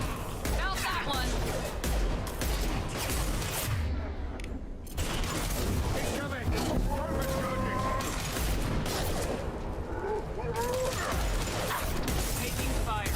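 Gunfire in the remastered Mass Effect 2, dense volleys of loud sci-fi shots and impacts crackling almost continuously, with a brief lull, as voices talk over the battle.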